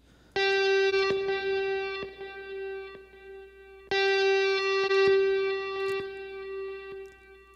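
Electric guitar notes ring out with a delay effect, repeats echoing in an even quarter-note pulse; two phrases, each decaying before the next begins.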